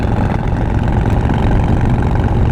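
A deep, throaty Harley-Davidson Breakout big-bore motorcycle engine with aftermarket exhaust idles steadily, its low rumble loud and close with no change in pace.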